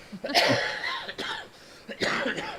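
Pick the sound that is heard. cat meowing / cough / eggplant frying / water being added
cough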